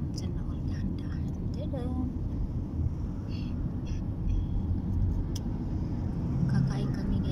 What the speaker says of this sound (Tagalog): So ngayon guys, traffic dito guys.